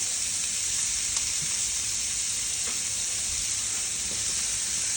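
Bacon sizzles in a pan beside diced celery and capsicum, a loud, continuous bright frying hiss that holds steady throughout with faint crackles and no voices.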